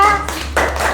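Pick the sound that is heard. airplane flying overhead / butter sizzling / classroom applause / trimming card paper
classroom applause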